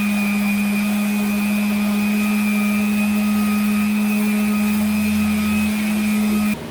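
A power sander with 60 grit paper grinds on a metal mini bike frame, a loud steady droning whine that holds constant and cuts off abruptly at the end.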